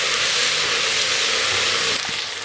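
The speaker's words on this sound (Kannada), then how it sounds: "ಇದು ಎರಡನ್ನೂ ಹಾಕಿ ಒಂದೇ 1 ನಿಮಿಷ ಎಣ್ಣೆನಲ್ಲಿ ಫ್ರೈ ಮಾಡ್ಕೊಳ್ಳಿ ತರಕಾರಿಗಳ ಜೊತೆ." Chopped vegetables with cinnamon and clove powder frying in hot oil, a steady loud sizzle that stays close and continuous and eases slightly at the end.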